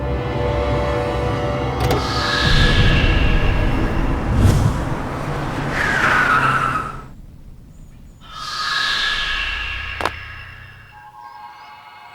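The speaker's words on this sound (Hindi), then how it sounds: "ड्राइवर चला गाड़ी हमरे पीछे।" A car on a road pulls away, its engine rising and falling in two loud sweeping passes with sharp clicks and a door-like thump between them.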